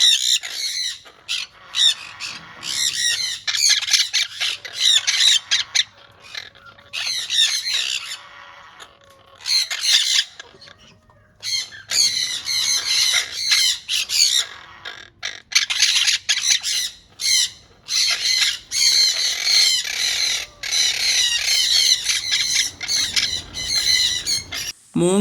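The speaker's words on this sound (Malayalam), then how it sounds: "മോങ്ക് പാരക്കീറ്റ് ഇന്ന് നമ്മുടെ നാട്ടിൽ വളരെയേറെ പ്രശസ്തി ആർജിച്ച ഒരു പക്ഷിയാണ്" Monk parakeets, also called Quaker parrots, kept in a breeding setup squawk loudly and harshly, many bursts in quick succession from several birds close by, with only short pauses, and no talk over them.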